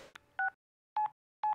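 Telephone keypad tones sound in a video game: a couple of quick clicks, then three separate clean dialing beeps spaced about half a second apart against silence.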